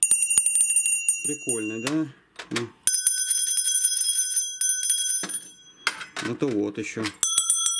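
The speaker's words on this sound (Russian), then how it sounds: "У всех колокольчиков звон, видите, какой? Разный." Vintage collectible bells, one marked as made in England, ring out in several bright, sustained metallic peals with shimmering overtones, each fading before the next, while someone talks between the rings.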